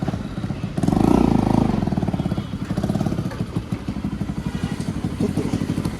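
A motorcycle revs up loudly, then settles into a steady, pulsing engine drone as the ride gets under way, close and continuous throughout.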